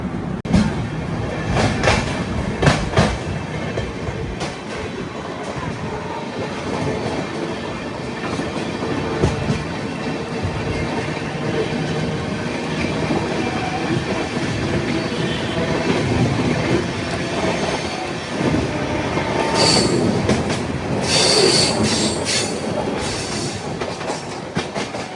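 The Pinakini Super Fast Express rolls onward after leaving Nellore, a continuous rumble of wheels on rails with rhythmic clickety-clack and occasional brief squeals, heard from inside the train without talk.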